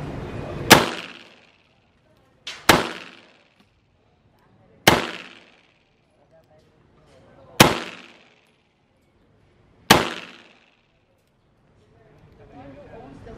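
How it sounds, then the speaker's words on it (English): Five sharp, loud gunshots from an Armscor RIA 9mm 1911 pistol fire one at a time at an outdoor range in Manila, Philippines, spaced a couple of seconds apart, each with a short ringing decay. "he gave me a couple of rounds just to try out the 9mm"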